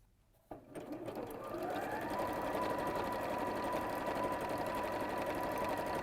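A sewing machine fitted with a cording foot stitches straight across cords, starting after a brief quiet moment and then running in a steady, continuous whir at close range.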